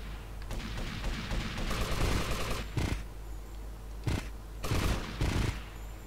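Gunfire in GTA: Vice City Stories: sustained automatic bursts and rapid shots, loud and close, broken by brief pauses and a few heavier booming hits.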